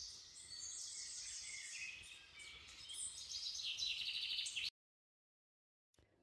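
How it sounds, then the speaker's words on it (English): Birds sing and chirp outdoors on a hillside walk on The Wrekin in Shropshire, a steady layered chorus of high calls with insect-like buzzing for about five seconds before cutting to near silence. "try and record the bird sounds that's currently going on"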